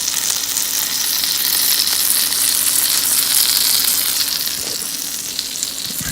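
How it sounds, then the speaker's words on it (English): Fish cooking in hot oil in a pan makes a loud, dense, unbroken sizzle that stays close and strong throughout, with a light clink near the end. "It still has the same oil in there. See how fast that oil jumps right up?"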